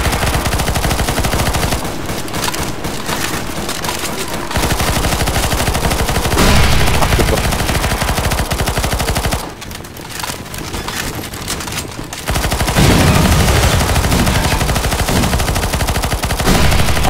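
Automatic gunfire while shooting zombies in the CS:GO Zombies mode: loud, sustained rapid bursts of shots that run almost continuously, broken by short pauses, with no talking over them.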